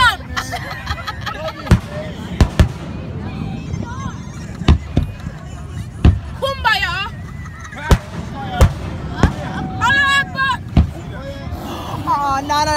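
Fireworks burst overhead at a Shelter Island outdoor show, sharp booming explosions recurring every second or two, loud and close, while people chatter and exclaim between blasts.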